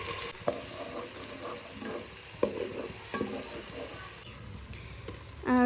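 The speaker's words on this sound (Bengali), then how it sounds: "ভালো করে ভেজে এখন আমি আদা রসুন পেস্ট দিয়ে দিব" Onions and ginger garlic paste fry in oil in a wok for beef biryani, a steady low sizzle broken by scraping stirs and occasional clatters of the spoon.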